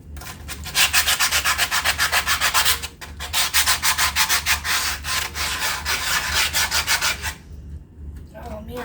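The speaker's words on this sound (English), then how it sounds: "make another ball of aluminum foil and see if we can't scrub it down real good" Rusty cast iron being scrubbed with a wadded ball of aluminum foil, loud rhythmic rasping strokes metal on metal, fast back-and-forth bursts with a brief pause near three seconds, fading at the end.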